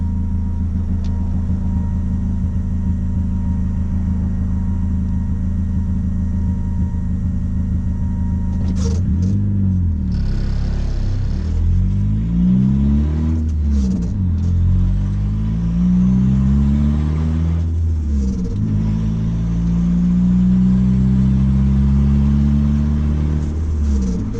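A turbocharged Honda Accord at wide-open throttle, its engine droning steadily then revving hard in repeated rising pulls, with a blow-off valve venting between them, loud and close with no talking.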